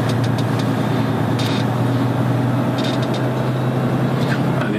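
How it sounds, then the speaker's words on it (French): A Volvo D13 540 truck engine fitted with a VEB+ engine brake, giving a steady low droning rumble that holds evenly throughout, with occasional faint clicks and people talking over it. "toujours sur un moteur D13 540 avec le VEB+"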